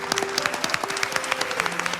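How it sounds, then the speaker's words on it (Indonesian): A television studio audience claps briefly for a schoolteacher, with light, scattered claps over a steady tone and murmuring in the background. "Kita berikan tepuk tangan untuk Ibu Tati."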